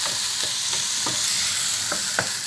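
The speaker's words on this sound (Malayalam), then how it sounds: "ഈ തക്കാളിക്ക് ഒന്ന് വഴണ്ട് വരുന്നത് വരെ നമുക്ക് വഴട്ടാം" Tomatoes sautéing in a pan, a constant bright sizzle broken by soft spoon scrapes and stirs at a loose rhythm, close and steady.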